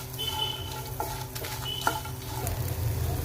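Green and dried chillies, garlic and tamarind roasting in a pan, a steady low sizzle with occasional scraping stirs close by.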